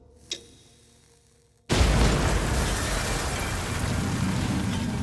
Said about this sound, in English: An explosion rips through the compound.